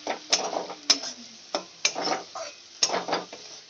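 Fried potatoes go into a pan of sizzling spice masala for a fish-head muri ghonto, with several sharp clacks of a spoon against the pan over a soft frying sizzle and stirring scrapes.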